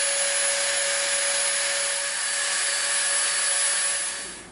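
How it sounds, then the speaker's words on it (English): A Dremel rotary tool grinds the edge of EVA foam, a close, steady high-pitched whine that holds evenly for several seconds before tapering off at the end. "we're going to come in with our Dremel and we're going to clean the edge up a little bit"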